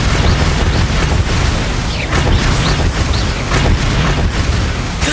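Bombarda spell explosions in Hogwarts Legacy combat, dense booming blasts and crackling bursts, loud and continuous over busy game action.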